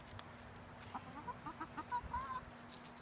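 Hens clucking in a backyard coop with roosters kept in a neighbouring pen, a string of soft, fairly faint rising clucks and short calls over a steady low hum.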